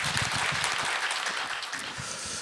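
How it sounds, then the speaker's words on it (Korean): Audience applause at a Korean academic lecture on psychology, a dense steady patter of clapping from a seated crowd, moderately faint and continuing alone for a couple of seconds. "박수로 청해 주시기 바랍니다."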